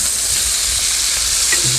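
Sous vide steak sears on a Blackstone griddle, a close, loud, constant sizzle and hiss from the hot flat-top with no talking.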